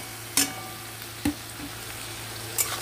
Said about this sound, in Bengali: এটা দিয়েও সুন্দর করে আমি ভাজতে থাকবো।